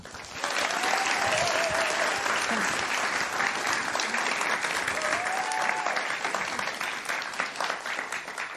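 Sustained applause from an audience, a dense wash of clapping that swells quickly and carries on loudly before easing slightly at the end.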